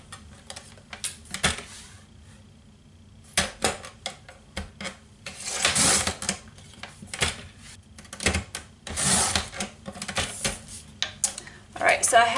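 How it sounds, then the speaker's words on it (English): Straight edge paper cutter slicing through card stock for alphabet letter pieces, close up, in quick bursts of scraping, sliding strokes separated by short pauses, with small taps and rustles of paper between cuts. "I can just use my straight edge cutter"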